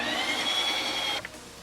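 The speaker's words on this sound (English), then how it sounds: "we will respin on mix-in" A Ninja Creami machine respins ice cream on its mix-in setting, a loud, steady motor whine with a high-pitched grinding tone up close that cuts off near the end.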